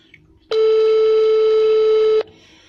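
A single steady telephone tone from a call being placed, lasting under two seconds, loud and close, with quiet room sound before and after and no talking over it.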